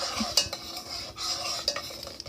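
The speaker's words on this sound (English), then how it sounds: "And you're going to take your spoon. You're just going to stir them up." A spoon stirs dried elderberry syrup herbs in a pot, making soft scraping swishes and a few light clinks in two brief bursts, quiet and close with no talking.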